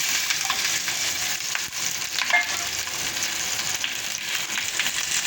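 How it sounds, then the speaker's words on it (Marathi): Large pieces of capsicum and onion sizzle in hot oil in a pan, a steady close frying hiss broken by occasional stirring scrapes, with no talking. "अशा मोठ्या मोठ्या पीसेसमध्ये शिमला मिरची कांदा कट करून घेतलेला आहे तर आपल्याला हे याच्यामध्ये परतून घ्यायचं आहे"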